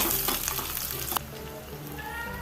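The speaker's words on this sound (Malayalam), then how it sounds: "ഇനി ചെറിയ ഉള്ളി ഉള്ളി അരിഞ്ഞതും കൂടി ചേർത്ത് കൊടുത്ത്" Chopped shallots hit hot coconut oil already holding mustard seeds and dried red chillies, a loud close sizzle with stirring that drops to a softer, steady fry after a sharp clank partway through.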